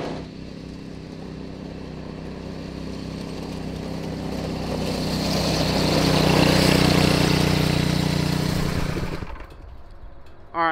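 A Honda clone go-kart engine with a torque converter runs steadily at high RPM, a loud continuous drone that swells in the middle and then cuts off abruptly near the end.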